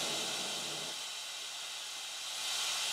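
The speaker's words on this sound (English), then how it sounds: "blue noise," Blue noise from a Max for Live noise generator plugin. A steady hiss thins out after about a second into a bright, airy noise that continues alone at moderate loudness.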